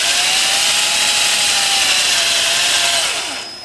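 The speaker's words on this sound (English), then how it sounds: "Reverse thread drill bit." Drill spinning a reverse thread bit into a broken bolt on an air conditioning compressor mount, a loud continuous high-pitched grinding whine with a slowly falling tone that drops off near the end.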